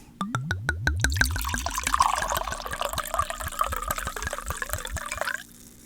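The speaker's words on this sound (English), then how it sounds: "Time for the pour." Liquid glugs out of a bottle in a rapid series of rhythmic gulps that settle into a steady, close pour and stop abruptly after about five seconds.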